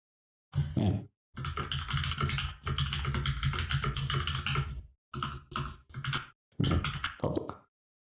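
Computer keyboard typing in bursts of rapid clicking and clacking, several runs separated by brief pauses, close and fairly loud with no talking over it.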